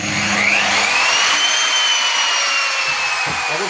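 A router machine cuts finger joints in wood at a furniture workshop, giving a loud, steady high-pitched whine with a shifting pitch and no pauses, close to the listener.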